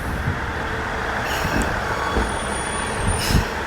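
A single-car train on the Hachiko line in Saitama, Japan, pulls into a quiet rural station, a steady loud rumble of wheels and motor with faint squeals, heard alone.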